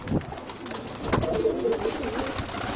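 Pigeons coo in a coop with continuous low warbling calls, moderately loud and close, over a noisy room background with no speech.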